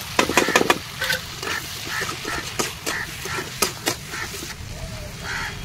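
Spices, garlic, cumin, black pepper and Kashmiri chili powder fry in a pan for a Bengali hilsa curry with potato and brinjal, a soft sizzle broken by quick sharp scraping strokes and clatters, close by, with no voices.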